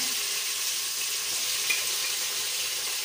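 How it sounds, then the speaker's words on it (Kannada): Raw banana frying in hot oil, a steady dense sizzle that holds even and close throughout with no voices. "ಎಣ್ಣೆನಲ್ಲೇ ಫ್ರೈ ಮಾಡಿಬಿಡ್ಬೋದು, ಬೇಗ ಬೆಂದೋಗುತ್ತೆ."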